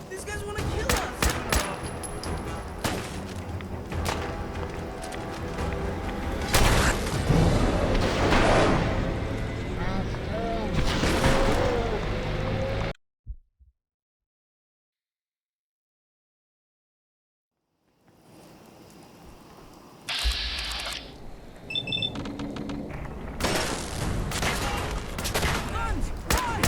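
Gunfire in the video game Fallout 4, loud repeated shots and bursts in a busy battle, cut by a few seconds of total silence before the shooting resumes, with a voice speaking at points.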